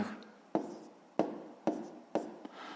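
A pen scratches numbers onto paper for a multiplication worked out in a column: four or five short, crisp strokes, each fading quickly, close and quiet.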